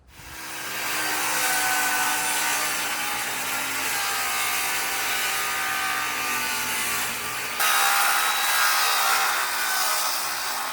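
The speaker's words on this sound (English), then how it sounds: "then I'm gonna start cutting the material" Power saw cutting 16-gauge steel rectangle tubing in a small shipping container workshop, a continuous loud grinding whine with steady ringing tones, held for about ten seconds with a brief change in pitch partway through, no talking.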